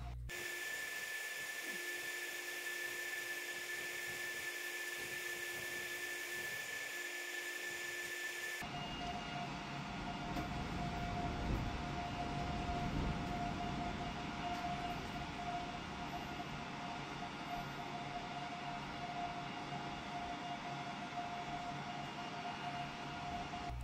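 A laser engraver works on a piece of brass with a steady whine and a constant high tone. Partway through, the pitch shifts to a lower, more even hum, which holds to the end with no speech.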